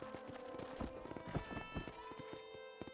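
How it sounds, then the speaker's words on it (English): Horse hooves clip-clop at a steady walking rhythm in the Red Dead Redemption video game, fairly quiet and close, with faint background ambience and no talk over it. "That's a nice horse."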